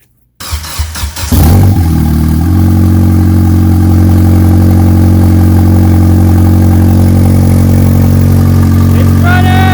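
A turbocharged Suzuki Forenza engine cranks with a few rhythmic starter turns, catches, and settles into a loud, steady idle up close, running continuously to the end.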